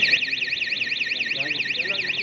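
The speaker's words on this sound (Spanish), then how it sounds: "Me ha dicho de tenerlo apretado, pero ha empezado una alarma" A street panic-button alarm wails in a rapid, continuous up-and-down siren pattern, loud and steady, with faint voices underneath.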